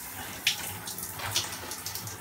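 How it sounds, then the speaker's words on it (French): Running tap water during a final rinse, a soft continuous splashing stream with small gurgles and spatters, fairly quiet and close, without talk. "on rince un dernier coup."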